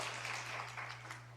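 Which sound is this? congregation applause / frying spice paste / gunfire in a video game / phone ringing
congregation applause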